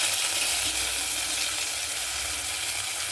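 Mustard seeds, spices and chilli tempering in hot oil for a chayote sambar give a steady, loud, crackling sizzle close up, with no talking.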